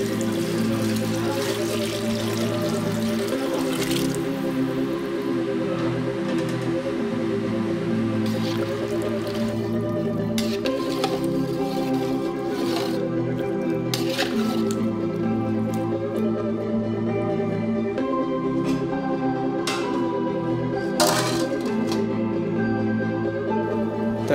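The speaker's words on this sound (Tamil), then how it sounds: "தேவையான அளவு தண்ணி விட்டுக்கலாம்." Water poured into a cooking pot while making chicken biryani, a long steady liquid stream with splashing and gurgling over a constant background hum.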